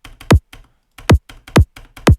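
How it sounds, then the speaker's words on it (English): Four punchy kick drum hits with a deep, pitched-down thump, each preceded by softer clicky ticks in a looping pattern. "Nice little fat kick for you."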